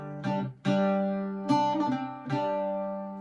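A bouzouki plays a few bright notes, each opening with a quick repeated fluttering trill, ringing sustain between them, close and clear.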